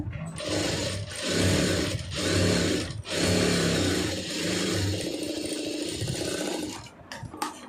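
A sewing machine runs in bursts while stitching a band of cloth onto a blouse, with a close, steady mechanical whirr that pauses briefly between runs. No one speaks.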